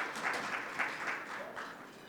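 A dinner audience gives a former staff member a soft, distant round of applause, steady and fairly brief, slowly tapering off.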